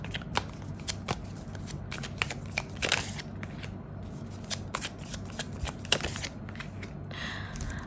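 Tarot cards shuffled by hand in a steady run of soft, papery riffles and flicks that repeat through the whole stretch, close and fairly quiet, with no voice over them.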